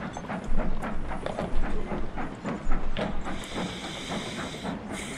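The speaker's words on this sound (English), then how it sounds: "Oh God, the train is so slow" A steam train runs in Sid Meier's Railroads video game, chugging in a steady rhythmic beat of hissing puffs, moderately loud, with a sustained steam hiss rising near the end.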